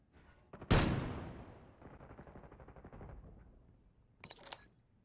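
An enemy sniper in a video game fires a sharp, loud shot that rings out and decays, followed by a softer run of rapid gunfire and another pair of distant shots near the end.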